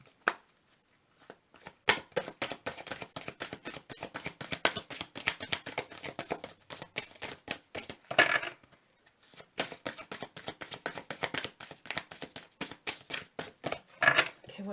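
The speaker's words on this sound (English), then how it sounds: "Last shuffle." A tarot card deck being shuffled nearby in a quiet room, with rapid crisp riffling bursts repeating in several rounds and brief pauses between them.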